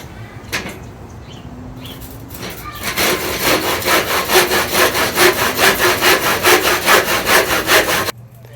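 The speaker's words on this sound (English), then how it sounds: "now I'm going to cut this. I'm going to do it the old-fashioned way. Do a handsaw." A handsaw cuts through old barn wood, a few tentative starting strokes followed by steady, loud back-and-forth rasping at an even rhythm for several seconds, then stopping abruptly, heard up close.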